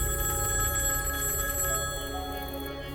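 Telephone bell ringing, a sustained, steady trilling tone that holds loudly for about three seconds with no talking over it.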